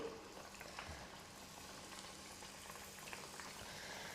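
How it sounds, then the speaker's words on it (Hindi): Breakfast snack pieces frying in hot oil in a pan, a steady close bubbling sizzle that holds evenly throughout with no talk over it. "जब तेल गर्म हो जाएगा तो अपने तैयार नाश्ते को इस तरह से डालेंगे"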